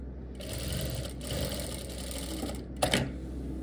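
Sewing machine stitching the zipper seam of a formal pant, a steady fast mechanical whir running throughout with a brief louder burst near the end, no talking.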